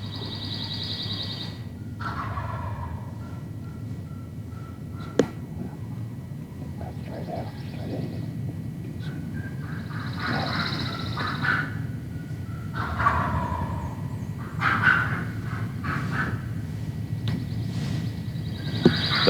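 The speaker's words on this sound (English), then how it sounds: "so when these two gobblers hit the ground, some excited calling and scratching in the leaves fired them up, and they came straight in" Two wild turkey gobblers gobble repeatedly in spring woods in response to excited hen calls and leaf scratching, loud, rattling gobbles recurring every few seconds over a steady low drone from an aircraft passing overhead.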